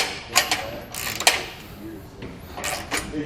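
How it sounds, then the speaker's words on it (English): Hand tools work bolts on the tongue of a Malone MicroSport boat trailer, with a few close metallic ratcheting clicks and clanks in short bursts, and a voice talks briefly between them. "we're just going to go ahead and use some hand tools"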